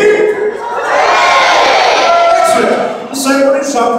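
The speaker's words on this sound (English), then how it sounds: "But first, a cheer for His Majesty the King." A crowd at a medieval-themed birthday ceremony cheers loudly for the king, a sustained mix of adult and children's shouts and whoops, swelling and then breaking into scattered cries.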